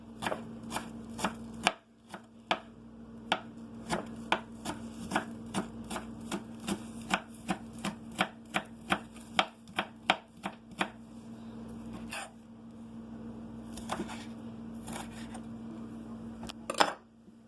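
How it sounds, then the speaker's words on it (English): Kitchen knife chops scallions at an angle on a cutting board, a rapid run of crisp, evenly spaced knocks that pause briefly, then resume in sparser strokes over a steady low hum. "always cut your scallions at an angle"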